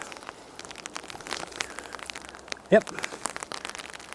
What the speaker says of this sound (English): The tapping you're hearing is the rain on the umbrella that I have jury rigged to the top of the camera there